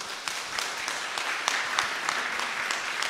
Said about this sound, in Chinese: 给自己一个掌声好吗？